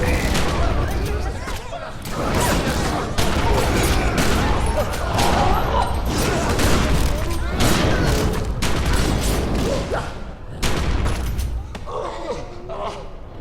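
Rapid, loud shotgun buckshot blasts and dense gunfire from The Secret World fill the scene in a near-continuous barrage, with brief gaps, and a voice speaking intermittently under the shooting.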